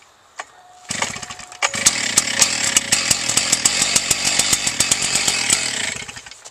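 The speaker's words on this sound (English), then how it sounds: "once it fires like that one time, you're going to move this up to half choke." A K12 cut-off saw engine fires once on a cold start, then catches and runs with a steady rapid two-stroke chatter, loud and close, with no voices.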